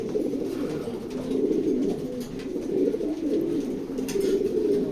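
A pair of racing pigeons coo in a continuous, murmuring warble, close and steady for the whole stretch, with no talking.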